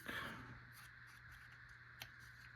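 Micro tip scissors make a short, faint snip while trimming the edge of scrapbook paper, followed by quiet rubbing and a soft click in an otherwise hushed room.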